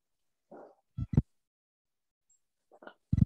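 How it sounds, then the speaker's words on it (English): Dogs bark in another room, muffled and moderately distant: a short whimper-like yelp followed by two quick barks, a pause, then another soft yelp and two more barks over an otherwise quiet room. "I'm hearing dogs in the other room."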